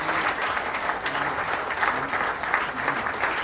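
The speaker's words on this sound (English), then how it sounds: "give him a round of applause for me" Sustained crowd applause at the Bayport send-off, an even, dense patter of many hands clapping without a break, moderately loud and close.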